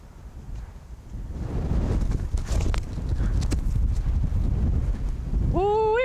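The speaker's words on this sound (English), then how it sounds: "Woo, it's windy." Strong headwind on a disc golf course buffets the microphone in a steady low roar for several seconds, with a voice starting up at the end.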